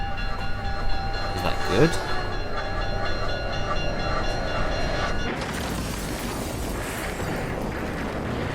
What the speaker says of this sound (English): I think I might have caused a train crash.